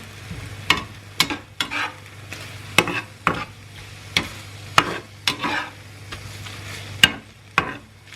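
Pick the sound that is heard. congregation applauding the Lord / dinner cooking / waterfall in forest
dinner cooking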